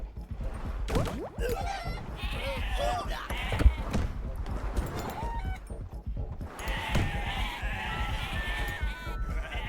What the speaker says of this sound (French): Le bon mouton.